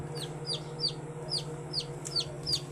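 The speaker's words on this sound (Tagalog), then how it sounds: "Ang inahin po nito ay heritage chicken, Rhode Island Red." A Rhode Island Red heritage hen clucks on a farm in a steady series of short, sharp calls about every half second, close and clear over a low constant hum.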